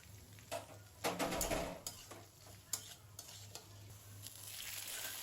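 Onions and garlic frying in hot oil in a pan for a dried-fish dish: soft, quiet sizzling with a few stirring scrapes and clinks, one fuller burst of frying noise, and no voices.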